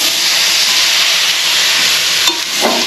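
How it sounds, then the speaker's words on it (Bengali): Sliced cabbage hitting hot oil with frying potatoes for a fish-head cabbage curry, making a loud, steady sizzling hiss that fills the whole stretch, with a brief stir or clatter near the end. "এর মধ্যে দিয়ে দেবো কেটে রাখা বাঁধাকপি"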